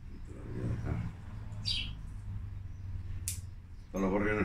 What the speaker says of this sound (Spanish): Están los gorriones nuevos aquí, ¿lo escuchas ahí?